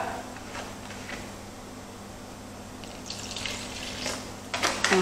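About 100 ml of water poured over ice in a container while making a shaken sorbet with a scout group; a faint, soft splash and trickle that builds toward the end, no talking.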